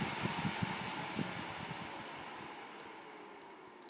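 A Dyson Hot + Cool fan heater runs with a soft, steady airy whoosh close by, a few faint knocks and clicks over the constant hiss.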